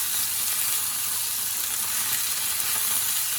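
Chicken thighs sizzle and fry in a pan while pan-grilling, a steady, close, even crackle of hot oil holding at a constant level throughout with no voices.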